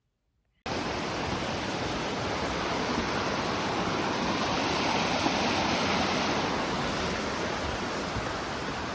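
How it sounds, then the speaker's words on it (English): A mountain stream rushes past a hiking trail near McHenrys Peak, Colorado, in a steady, loud, close wash of water that starts abruptly and runs on unbroken, with no voices. "a lot of water rushing past"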